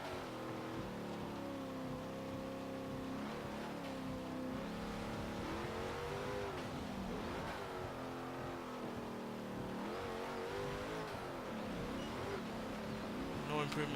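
A stock Hemi V8 in a 2017 Ram 2500 Power Wagon revs and shifts through gears in Forza Motorsport 7, a steady engine drone rising and falling throughout, fairly quiet and with no talk over it.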